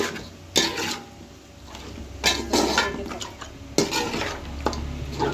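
A spoon scrapes and clinks in a pot as garlic and ginger paste is mixed into large pieces of meat, giving repeated near stirring strokes with soft metallic knocks over a low steady kitchen hum.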